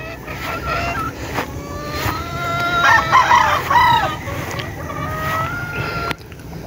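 Chickens cluck steadily while a rooster crows loudly nearby, with a farmyard hum of other birds in the background.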